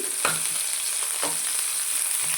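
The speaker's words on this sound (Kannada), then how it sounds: "ಇವಾಗ ಎಣ್ಣೆ ಕಾಯಕ್ಕೆ ನಾವು ಉಳ್ಳಾಗಡ್ಡೆ ಹೆಚ್ಚಿಕೊಂಡಿಲ್ಲ ಅಂತೀನಲ್ಲ ಆದ ಉಳ್ಳಾಗಡ್ಡಿನ ಹಾಕ್ತೀನಿ ಸ್ವಲ್ಪ ಫ್ರೈ ಮಾಡ್ಕೊರಿ" Onions sizzling and frying in hot oil for a North Karnataka dill leaf palya, a steady loud crackle with a few stirring scrapes, no voices.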